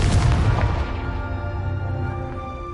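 A heavy booming blast from the Confringo spell in a video game, loud at the start and then fading into a long rumbling decay.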